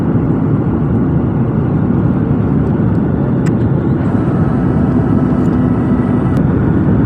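Steady broadband cabin roar inside a passenger jet descending toward Port Blair in the Andaman Islands on a flight from Kolkata, loud and continuous with a faint high whine, no voices.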